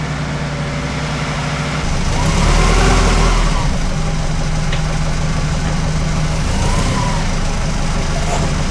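A 30-year-old Subaru Loyale engine runs steadily after a clutch replacement, a continuous close mid-range drone that swells briefly and settles, with no talking.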